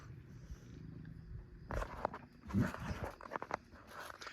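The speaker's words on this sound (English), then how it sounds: "If you're wondering what that purring is, that's my old cat, Max." An old cat purrs softly and steadily up close, with light rustling and shuffling movements mixed in.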